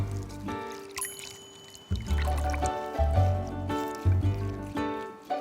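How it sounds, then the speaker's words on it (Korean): Vegetable roots are rinsed and shaken in cold water in a kitchen, with repeated sloshing, swishing splashes in uneven bursts close by and a musical background underneath. "요거를 찬물에다가 조금 헹궈요"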